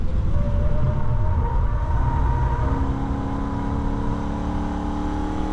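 A Holden VF ute engine accelerating on the Nürburgring, a steady loud in-car engine drone with a rising then shifting tone, as if after a gear change.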